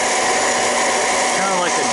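A secondhand hot air popcorn popper runs outdoors with a steady, loud whirring fan roar like a hair dryer, holding constant with a slight rise in pitch near the end.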